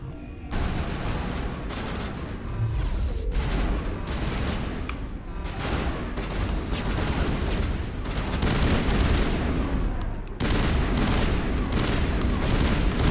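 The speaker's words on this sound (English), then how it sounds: "Why is these guys shooting at me?" Sustained gunfire from enemies in the sci-fi shooter Mass Effect, dense overlapping volleys and rattling bursts with occasional heavier booms, loud and continuous throughout with brief dips between exchanges.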